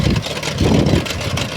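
A farm tractor used for ploughing sugarcane fields runs nearby with a loud, steady, low engine rumble that stays throughout.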